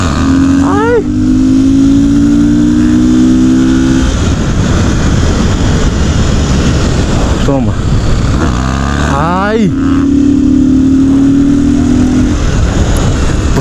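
A BMW R1200 motorcycle engine revs hard in loud rising and falling sweeps, with repeated bursts of acceleration close by; voices shout and call out throughout over the engine noise.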